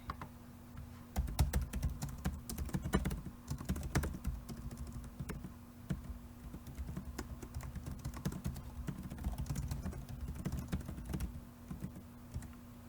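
Steady typing on a computer keyboard while entering the title of a paper in APA format, a continuous run of close, crisp keystroke clicks over a low background hum.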